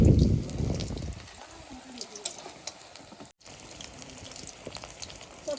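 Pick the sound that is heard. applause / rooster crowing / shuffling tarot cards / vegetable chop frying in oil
vegetable chop frying in oil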